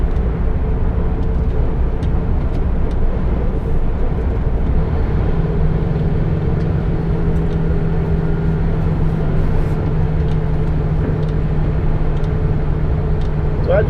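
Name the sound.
LGV lorry accelerating on road in Exeter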